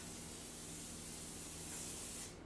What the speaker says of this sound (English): Spray the pan real good.